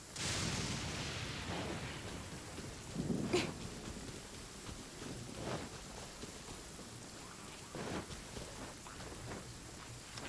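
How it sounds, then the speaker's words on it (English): Rain falls steadily in a video game world, a soft continuous patter on surfaces with a few deeper rumbling swells like distant thunder, fairly quiet and with no talking. "Good thing it's raining"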